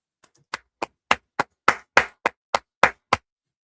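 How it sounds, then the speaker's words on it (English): About eleven sharp hand claps, close and dry, in a fairly even rhythm that starts with two faint ones, then grows louder, with silence between each clap. "Hand clap."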